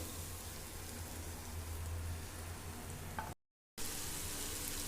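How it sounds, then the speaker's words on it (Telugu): Onions sizzle steadily in hot oil, a dense continuous crackle with no talking, briefly cutting out near the end. "ఇప్పుడు ఆయిల్లో ఫ్రై చేసుకుందాము"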